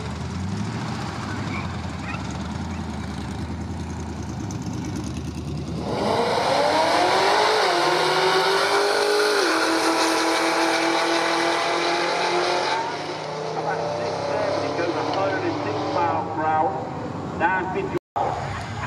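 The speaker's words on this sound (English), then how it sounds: "Corvette taking on that Challenger" Supercharged C6 Corvette Grand Sport and a Challenger launching side by side at a drag strip: loud engine roar climbs through rising revs and gear changes, then fades as the cars pull away, with an announcer talking over it.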